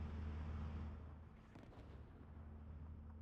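Distant 155mm artillery fire in a strategy video game, heard as one faint, low booming rumble that slowly fades out over a few seconds, with no voices.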